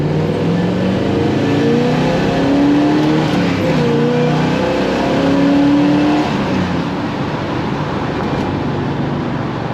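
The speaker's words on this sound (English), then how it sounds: "Hopefully you're able to pick up some of that 4-barrel sound there through that unsilenced air cleaner." A 1968 Plymouth Sport Fury's 383 V8 with a four-barrel carburetor and unsilenced air cleaner runs steadily at idle and light throttle, a deep continuous rumble with intake roar, loud and close, no talking.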